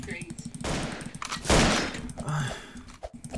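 Rapid rifle gunfire in a video game, rattling bursts and sharp shots mixed with game effects and a player's voice talking over the action.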